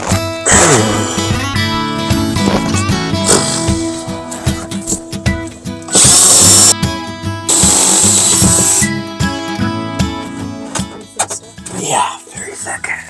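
A power tool cuts through a thick plywood boat bulkhead, about an inch thick, with intermittent buzzing and rattling bursts, a couple of louder sustained stretches, and pauses between cuts.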